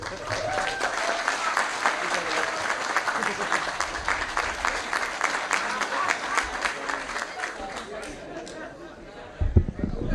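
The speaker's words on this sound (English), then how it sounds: "please give a round of applause for my good friend, Representative Will Davis." An audience applauds a state representative at a Chicago public event. Dense, even applause carries on for about ten seconds, with a faint murmur of crowd chatter underneath and a soft thump near the end.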